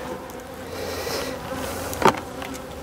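A wintered honeybee colony buzzing steadily as the swarm is transferred into a new hive, a continuous close insect drone with one brief sharper knock partway through.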